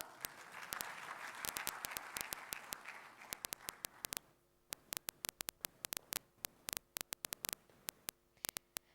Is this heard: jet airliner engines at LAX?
no